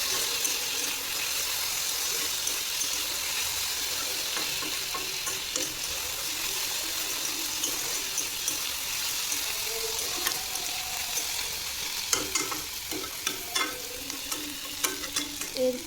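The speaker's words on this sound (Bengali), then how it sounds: "এরপর কিছুক্ষণ ভাজতে ছেড়ে দেবো।" Food sizzles and fries steadily in a pan while being stirred, with a continuous close hiss and scattered scraping clicks toward the end.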